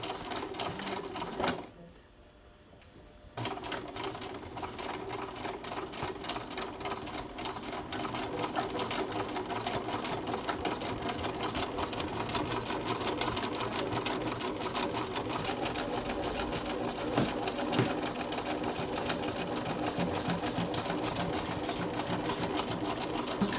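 Sewing machine stitching fabric during a sewing lesson, a fast continuous mechanical needle rattle at close range that drops out briefly near the start and then runs steadily on.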